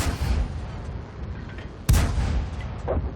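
A tank cannon in the World of Tanks video game fires one loud, sharp boom midway, with a rumbling tail over a steady engine-like background drone.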